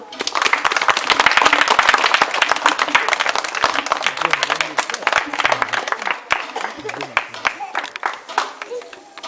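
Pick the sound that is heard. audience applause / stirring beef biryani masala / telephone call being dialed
audience applause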